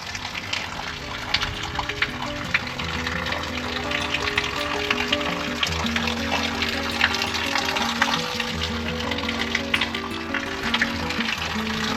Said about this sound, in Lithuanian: Girdžiu čiurleną.